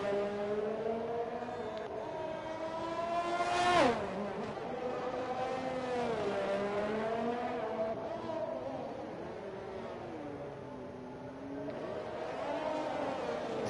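Race cars in a sim racing game lap the Monaco street circuit, engines whining and shifting pitch continuously, with one car sweeping past loudly near the start and others droning under faint commentary.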